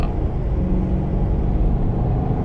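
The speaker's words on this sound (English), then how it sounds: "You can hear the V8 growl keep turning a kind of bassy, aggressive note behind me" A Maserati Quattroporte V8 engine drones in a deep, steady rumble, continuous, low and bassy, with no voices.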